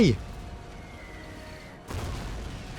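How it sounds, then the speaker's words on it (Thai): Artillery and gunfire from the Call of Duty Ghosts video game: a low rumbling backdrop gives way to a sudden loud blast near the end, followed by sustained heavier booming. "โอ้ยมันยิงปืนใหญ่ใส่ยับเลยนะฮะ"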